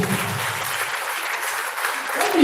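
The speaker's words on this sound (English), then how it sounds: "We clap." Audience clapping fills a school AGM gathering, a steady, dense round of applause from a crowd that holds evenly throughout with a few brief voices mixed in.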